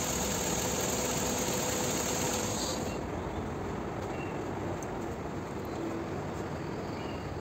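Car engine idling during radiator coolant bleeding, a steady close rumble with a high whine that drops away a little before three seconds in, leaving a lower, quieter engine drone that continues to the end.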